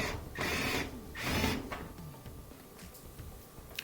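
Screwdriver tightening a Phillips head screw on a Whirlpool dryer switch, two short bursts of ratcheting, scraping turns followed by faint small clicks and handling noises, quiet and close.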